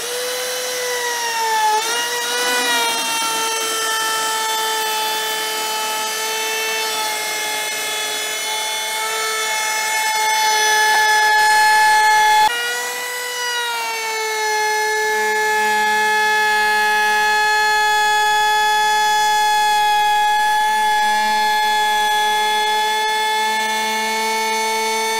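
A Milwaukee M18 Fuel brushless compact cordless router chamfers the edge of dense, hard imported birch plywood, giving a loud, steady high-pitched motor whine that dips in pitch under load twice before settling into a sustained cut, with no talking.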